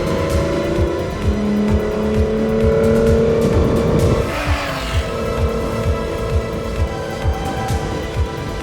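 A Formula Yas 3000 single-seater race car weighing 650 kilos, with downforce wings, drives on the Yas Marina Circuit track. Its engine drones loudly and steadily, with a close pass and a shift in pitch about halfway through.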